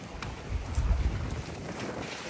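Strong wind buffets the microphone in low rumbling gusts at the water's edge, with faint water and boat noise in the background; no one speaks.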